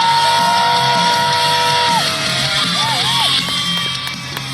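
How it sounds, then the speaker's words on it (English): A distant crowd of women roars with screams, yells and whoops at a monster truck show, high-pitched voices rising and falling over a loud arena din. "Ladies, I want to hear you scream for Mikayla Tulachka."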